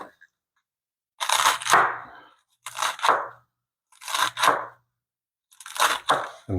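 Knife slicing through dry escarole leaves, four separate bursts of crisp crunching cuts spaced about a second apart, close and fairly loud, with no talk.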